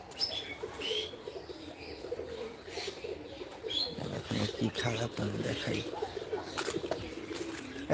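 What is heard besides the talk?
pet pigeons cooing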